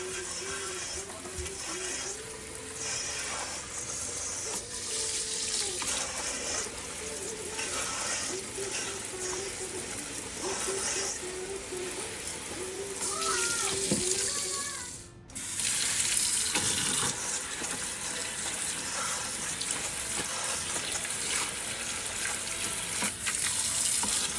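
Tap water runs steadily into a kitchen sink while cucumbers are washed, a continuous close splashing hiss with brief dips as the produce is moved, while someone talks over it now and then.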